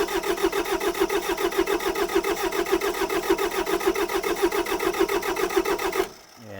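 Kubota diesel tractor engine with a suspected glow plug problem, running in a steady, rapid chugging rhythm close by, then cutting off abruptly near the end.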